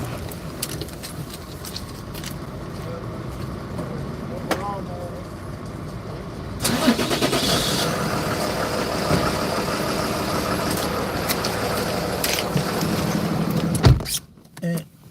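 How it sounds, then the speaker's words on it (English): A truck engine turns over and settles into a steady idle, starting with a jump in level partway through and running as a continuous rumble with some faint clicks, no talking during it. "Start my truck real quick."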